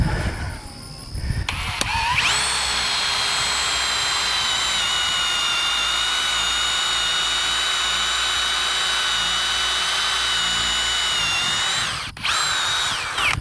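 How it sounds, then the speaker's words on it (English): A power drill bores through a wooden fence post outdoors, whining at a steady high pitch for about ten seconds after a short start, then stopping briefly and restarting near the end. "Now we're going to drill one about 2 inches down on this one."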